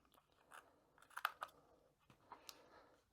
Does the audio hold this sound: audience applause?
no